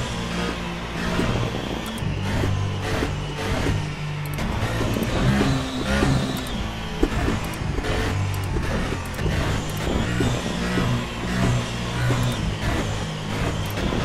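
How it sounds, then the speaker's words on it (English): A Formula 1 car engine in a VR racing game at the Belgian Grand Prix revs up and down repeatedly in short bursts, rising and falling pitch forming a crude melody, loud and close, with no voices. "I've just figured out how to play Mary Had a Little Lamb on the F1 car"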